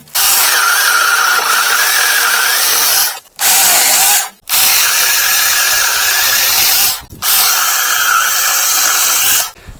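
A SEYVUM 6-inch 20V mini cordless one-hand chainsaw whines loudly and steadily as it cuts through wood, running in four long bursts separated by brief pauses when the motor stops.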